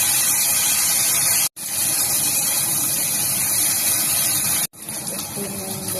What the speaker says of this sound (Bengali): তেলে দিয়ে দিলাম